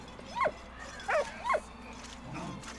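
A dog in the video game Valiant Hearts gives three short whimpering barks close together, then a fainter whine, over a low steady background hum.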